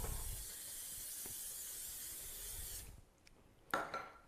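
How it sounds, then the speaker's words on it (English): Cooking spray hisses in a steady stream for about three seconds into a pudding basin for a Christmas pudding, then stops, followed by a brief knock or clatter. "Now I'm going to spray it with some cooking spray."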